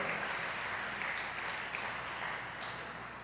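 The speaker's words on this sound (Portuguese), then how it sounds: "Você pode aplaudir o Senhor pela fé que Ele inseriu no nosso coração?" A church congregation claps during a worship service, a soft, even wash of applause that holds steady throughout without any speech.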